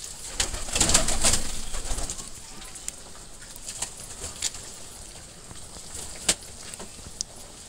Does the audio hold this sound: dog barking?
no